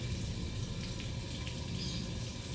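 Water runs steadily from a tap as a broad, constant rushing hiss, fairly close and moderately quiet, with no voices.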